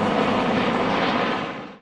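A military helicopter carrying a fallen soldier's coffin roars loudly and steadily up close in a dense engine and rotor wash, fading sharply at the end, with no voices.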